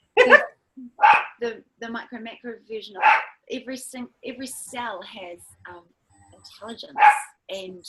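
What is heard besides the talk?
dog barking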